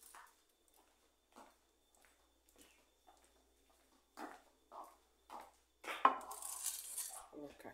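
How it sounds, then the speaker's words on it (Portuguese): Bowls and dishes from yesterday's lunch being gathered off a table, with scattered soft clinks and knocks that build to a louder clatter near the end. "Vou tirar essas vasilhas aqui da mesa."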